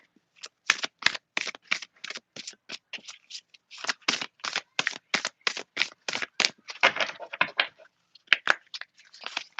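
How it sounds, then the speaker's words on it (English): Rapid riffle shuffling of playing cards, sharp papery bursts in quick repeated runs, close and clear with no talking. "I'll get the shuffling."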